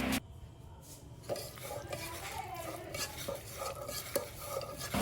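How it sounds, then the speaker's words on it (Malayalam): Beef worked together with masala by hand in a bowl, producing close, wet squelching and stirring noises with occasional clinks against the dish, steady and moderately quiet, no talking. "നമ്മൾ കൈവച്ച് തന്നെ നന്നായിട്ട് മിക്സ് ചെയ്ത് കൊടുക്കുക കേട്ടോ"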